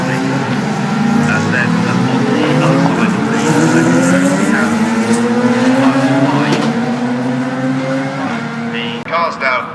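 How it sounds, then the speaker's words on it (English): GT race cars roll up to the start at Brands Hatch, a loud close pack of engines droning and rising in pitch, with tire squeals and a commentator talking over the noise. "Cars now coming up to the start with Bradley Smith controlling them from pole position"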